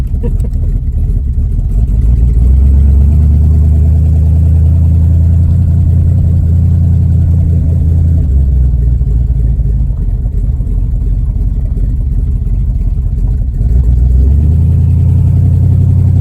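A bus with a 308-gear overdrive transmission cruises down a road, its engine droning loud and close in a deep steady rumble that rises as it pulls, then eases and swells again near the end.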